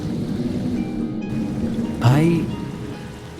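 Steady rain hiss in a horror audio drama on a dark night, falling continuously with a brief spoken word and a rising tonal swoop partway through.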